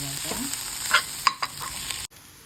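An egg frying in a pan gives off a loud, close sizzle, broken by sharp scraping stirs before the sound cuts off abruptly near the end.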